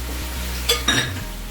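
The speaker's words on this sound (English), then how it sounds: "I'm actually going to add in the ginger and garlic paste" Ginger garlic paste goes into onions sautéing in a pan, giving two brief clinking, scraping knocks of utensil against pan over a quiet, steady kitchen background.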